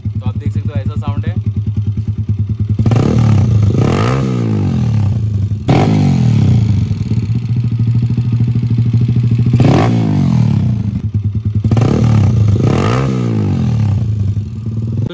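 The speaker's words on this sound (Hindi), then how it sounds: "जो आपको साउंड आता रहेगा वो इंजन का ही साउंड है" Bajaj Pulsar NS200 motorcycle engine running near and loud, a steady rapid ticking tappet clatter with several rising revs, and someone talking over it at times.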